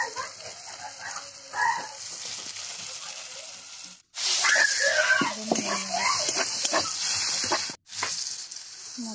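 Onion and tomato hiss and sizzle in a hot kadai, a steady broad frying noise that swells loudly after a brief pause, with clattering, a short gap and faint voices and a dog's bark mixed in.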